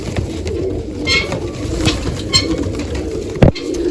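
Pigeons in a loft coo softly and continuously while they are being watered, a low murmur with occasional rustling and a sharp knock near the end.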